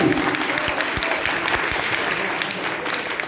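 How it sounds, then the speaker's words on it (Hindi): An audience applauds at a seminar-cum-competition in Goshainganj: dense, steady clapping from a crowd fills the whole stretch at even loudness, close and full. "दोनों लोगों के लिए एक जोरदार तालियां और कॉपरेटिव"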